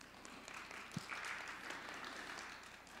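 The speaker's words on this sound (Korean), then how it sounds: "지상현 교수님을 박수로 맞이해 주시기 바랍니다." A forum audience claps to welcome Professor Ji Sang-hyun, a faint, steady patter of applause sounding somewhat distant, with a single sharper thump near the start and no voices over it.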